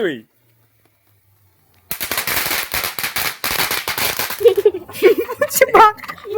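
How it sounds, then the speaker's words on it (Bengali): After a short quiet stretch, firecrackers set off during Kali Puja celebrations crackle and pop in rapid, irregular bursts, loud and close, with voices calling out amid the blasts. "তারপর আমরা সবাই মিলে বাজি ফাটাতে বেরোলাম আমাদের দালানে।"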